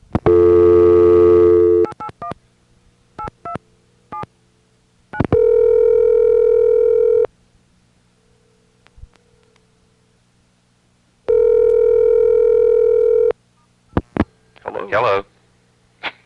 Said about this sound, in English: here's a suspiciously normal sounding phone call from my house to Les's house